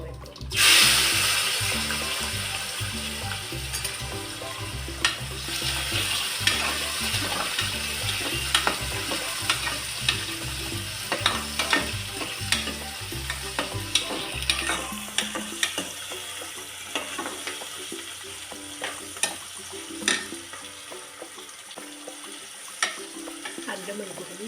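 Onion and tomato fry in oil with cumin, dried fenugreek leaves, ginger, chilli and garlic paste, a loud steady sizzle broken by frequent spoon scrapes and stirring clatter that thins out toward the end.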